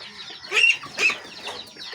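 Close-up chickens and chicks cluck and peep in short bursts while feeding on grain beside ducklings, a few soft calls overlapping in a quiet setting.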